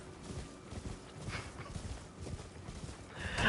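Hooves of the spectral steed horse in the video game Elden Ring clop quietly in a quick, steady gallop rhythm, faint and without voices.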